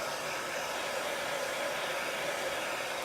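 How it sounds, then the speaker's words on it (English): A hair dryer on a warm setting blows steadily over a chalkboard, a loud, even whoosh with a constant motor whine that holds unchanged from start to finish. "I'm going to go ahead and dry this up with my hair dryer"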